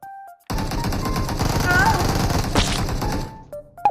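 Loud, sustained automatic gunfire from the PUBG Mobile game erupts after a brief pause and rattles on for about three seconds before cutting off, with game interface beeps at the start and end.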